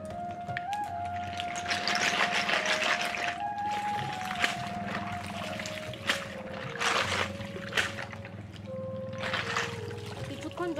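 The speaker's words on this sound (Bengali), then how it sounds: "আমি প্রথমে একবার এই জল দিয়ে একটু ধুয়ে ঠান্ডা করে নেব।" Water splashes and trickles over hot freshly cooked field snails as they are rinsed to cool, a continuous close pouring and splashing with a person talking over it throughout.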